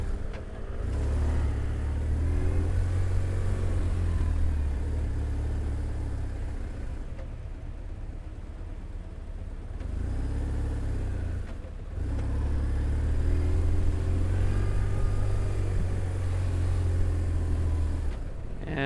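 Motorcycle riding through city traffic in Medellin, its steady low engine drone rising and easing in long stretches, with a brief lull mid-ride and surrounding street noise throughout.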